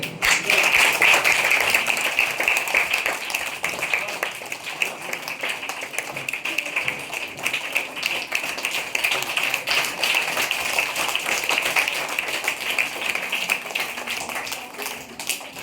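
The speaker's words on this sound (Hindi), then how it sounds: "तालियां बजती रहनी चाहिए।" Audience applause at a school prize distribution program, a sustained bed of many hands clapping that continues steadily at moderate volume with a faint high tone running underneath.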